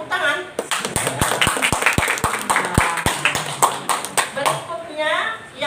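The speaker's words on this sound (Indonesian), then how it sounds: "Tepuk tangan." Sparse individual hand claps at an Indonesian speech competition semifinal announcement, a few sharp slaps spread across several seconds, mixed with voices and room murmur rather than full applause.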